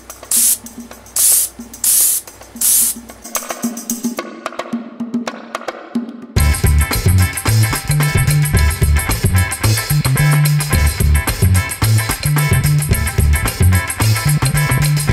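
An airbrush sprays paint onto a prop mask with a steady, close hiss. It starts in short separate bursts, then after a pause runs as a long continuous spray.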